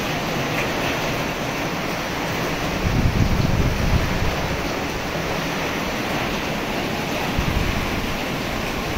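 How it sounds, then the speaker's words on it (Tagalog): Strong wind gusting around a raised house in the Philippines during a heavy rainstorm, a loud, steady rushing roar with deeper buffeting surges against the microphone, with no one talking. "ang lakas ng hangin"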